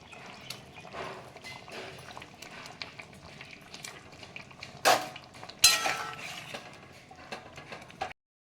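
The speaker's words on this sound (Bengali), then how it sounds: "এবারে আমি ধোকাগুলো দিয়ে দিচ্ছি।" Dhoka lentil cakes go into a pot of curry with potatoes for a Dhokar Dalna. Quiet scrapes and a couple of sharp metallic clinks of utensil against the pot, with no talking.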